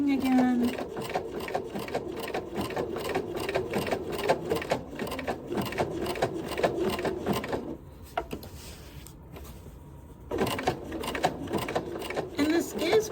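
A sewing machine stitches a decorative stipple stitch for flower centers with fast, even rhythmic needle clatter. It pauses briefly, then resumes near the end.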